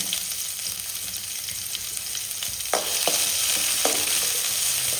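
Curry leaves and half an onion dropped into hot oil for a beans sukka, a loud continuous sizzle with sharp crackling spits, intensifying partway through.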